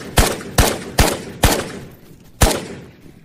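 Five sharp gunshots ring out in the VR shooter Ghosts of Tabor, close and loud, spaced irregularly with a longer pause before the last, each with a short decaying tail and no talk over them.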